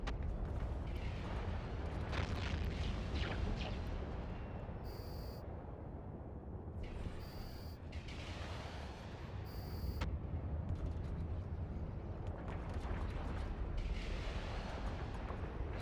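Ships shooting in EVE Online, a continuous low rumble of weapon fire and explosions with repeated booming impacts and electronic tones over about sixteen seconds, moderately loud and without talk.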